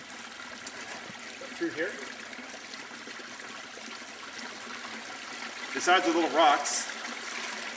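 Stream water trickles steadily through a culvert running beneath a road, a soft constant burble heard from nearby while someone talks over it.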